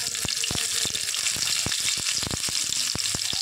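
Chopped onion and black cumin sizzle loudly in hot mustard oil in a village kitchen, a steady bright crackle broken by repeated sharp spatters and stirring knocks throughout.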